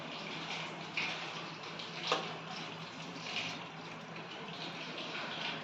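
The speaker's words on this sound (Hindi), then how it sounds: "अब मैं भर रही हूँ कूलर में पानी" Tap water runs steadily into a household air cooler being filled, a continuous broadband splashing rush at moderate level with a couple of faint clinks, and no talking.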